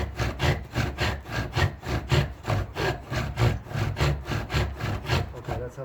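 A bow drill spindle rubs rapidly against wood to make a first friction fire, a loud, close, rhythmic back-and-forth grinding of about two strokes per second with no talk.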